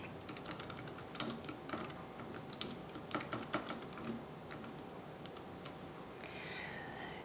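Someone types a tweet on a computer keyboard, a quick, irregular patter of close, crisp key clicks in bursts that thin out toward the end, with no talking.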